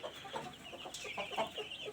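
A rooster, a prized fighting bird, makes repeated short clucking calls at moderate distance in an outdoor setting, with a steady background hiss.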